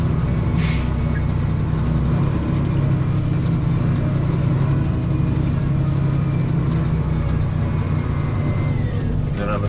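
A Volvo dump truck hauling dirt idles and rumbles with a steady, loud low drone while backing in, with a brief hiss near the start and occasional faint talk over it.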